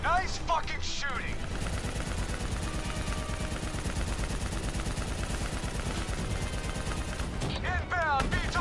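Rapid sustained automatic gunfire from the video game Call of Duty 3, loud and continuous, with voices talking over the start and end of the burst.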